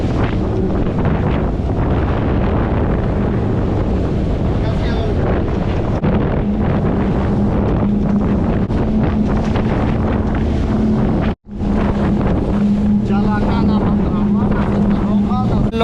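A ship at sea near Tuvalu rides through large open-ocean waves, with a steady low engine drone, rushing water and heavy wind buffeting close to the microphone throughout, broken by one brief dropout.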